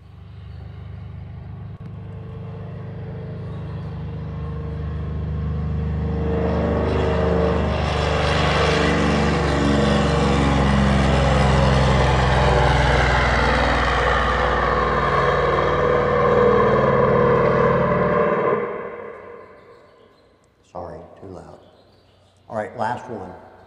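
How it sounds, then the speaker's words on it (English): A Grumman Hellcat fighter's radial piston engine roars during takeoff at an airport in Atlanta, Georgia, swelling from a loud rumble to a sustained full-power drone, then fading quickly as the aircraft climbs away, followed by brief bursts of noise. "This is a Hellcat taking off out of the airport in Atlanta, Georgia. So listen to this engine"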